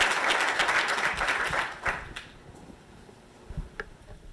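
A conference panel audience claps for the organizer in a burst of dense applause that thins out after about two seconds and ends in a few scattered claps.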